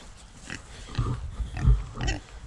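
Low, snuffling pig grunts come in short irregular bursts, fairly close, with some rustling between them.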